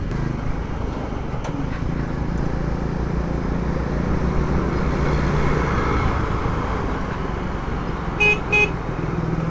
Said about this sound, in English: first time using the horn